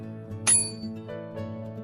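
A bell rung to signal the start of a speech in an online school debate, one bright ringing strike near the middle with a lingering tone over a steady background hum.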